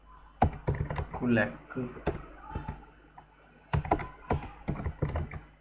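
Quick bursts of clicking keys on a computer keyboard, close and clear, start and stop between stretches of a person talking during a design tutorial.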